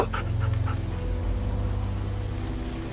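A dog pants steadily and gives a few high whimpers in The Walking Dead video game, close and continuous over a low rumbling background, with no talking.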